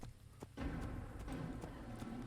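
Horse hooves clip-clop steadily at a moderate distance in the medieval Damascus city of the video game Assassin's Creed, a continuous walking rhythm over ambient background with no talk.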